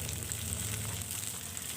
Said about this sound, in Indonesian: Setelah itu baru dimasukkan ya semua cabenya. Jadi sekaligus digoreng semuanya.